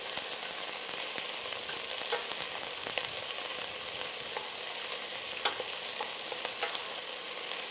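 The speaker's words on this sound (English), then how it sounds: "I'm just going to add in my onions. And just stir fry it, saute it in the oil." Onions sautéed in oil crackle and sizzle in a steady, close hiss, with scattered ticks and scrapes from stir-frying running throughout.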